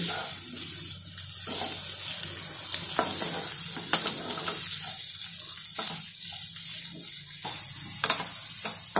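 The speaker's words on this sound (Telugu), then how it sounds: "అల్లం గడ్డ పేస్ట్ అడుగున ఉంటుంది కాబట్టి కొంచెం మంచి అడుగు నుంచి గీక్కుంటా" Boiled potatoes frying with ginger paste in a pan, stirred and scraped from the bottom, a continuous close sizzle broken by repeated metallic scraping strokes, with no voices.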